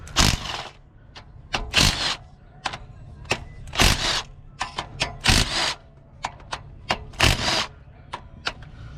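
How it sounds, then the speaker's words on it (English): A cheap Craftsman impact wrench zips off small 12 mm bolts during a Honda EG hatch teardown with a turbo H2B engine. It comes as several short rattling bursts spaced a second or two apart, with lighter clicks and clanks between them. "Just gonna hit them with the impact."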